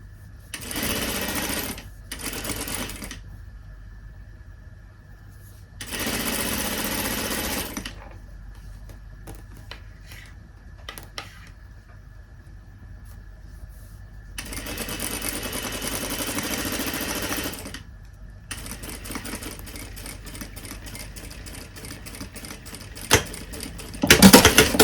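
A sewing machine stitches blouse sleeve seams in several separate runs, each a steady, close whirring hum lasting a few seconds, separated by quiet pauses and faint handling noises.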